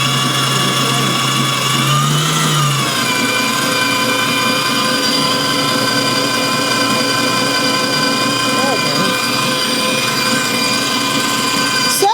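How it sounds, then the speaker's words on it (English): A Hamilton Beach Professional stand mixer, 5-quart and 450-watt, drives a large KitchenAid-style shredder attachment with a constant close motor whine and hum for the whole stretch, with a brief voice near the start. "This is a big shredder."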